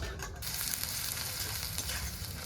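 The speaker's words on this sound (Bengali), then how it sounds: "তেজপাতা শুকনো লঙ্কা আর পেঁয়াজ কুচি দিয়ে ভাজা ভাজা করছি" Bay leaf, dried chilli and chopped onion fry in hot oil for mutton curry, a steady close sizzle with faint stirring scrapes and no talking.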